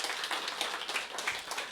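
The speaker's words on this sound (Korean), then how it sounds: "박수부터 시작하고요." Audience applause at the opening of a Dream School motivational seminar: a steady, fairly quiet wash of many hands clapping together with no talking over it.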